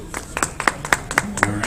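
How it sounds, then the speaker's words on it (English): Applause from the audience at a convention hypnosis show: a smallish crowd clapping in quick, uneven bursts, moderately close, with scattered individual claps standing out. "give me a round of applause"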